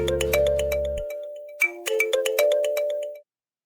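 A phone on speaker rings with a repeating electronic ringtone melody in bright bursts, loud and close, with a low hum at the start, then stops abruptly.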